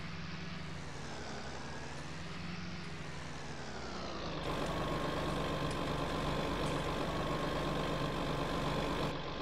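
A truck engine idles in the video game Farming Simulator 19, a steady low rumble that grows louder and denser partway through, then holds evenly with no talk.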